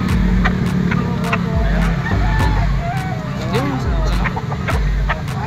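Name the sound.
stag roosters at a chicken auction market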